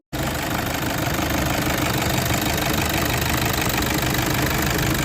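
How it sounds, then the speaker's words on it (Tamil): A Toyota Innova eight-seater runs with its bonnet open, its engine idling in a loud, steady, slightly knocking rumble that kicks in abruptly and holds without talk. "நான் பேனட் ஓப்பன் பண்ணி உங்களுக்கு ஸ்டார்ட் பண்ணி காமிக்கிறேன்."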